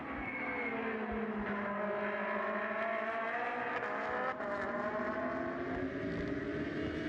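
Race cars of the Trofeo Pirelli series scream past at Istanbul Park in 2014, several high-revving engines overlapping in a continuous loud wail with rising and falling pitch as they run flat out.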